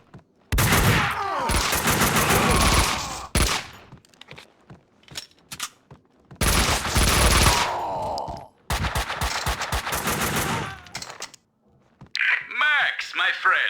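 Bursts of rapid gunfire from the Max Payne 2 video game, loud and close, come in several long volleys separated by brief pauses. The shots are punctuated by clicks and scattered clatter.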